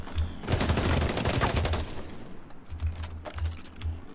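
Automated turret fire in a multiplayer shooter, a loud sustained burst of rapid machine-gun shots, then a pause and several shorter rattling bursts in quick succession.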